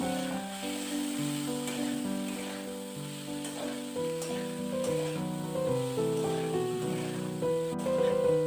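Cauliflower sautés in a pan with chili, cumin, turmeric and salt, giving a continuous soft sizzle with light stirring beneath gentle background music.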